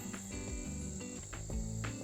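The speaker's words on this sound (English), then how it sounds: "You can hear some crickets in the background." Crickets chirp in pulsing, repeated bursts over a steady hum outdoors in the early morning, with faint birdsong nearby.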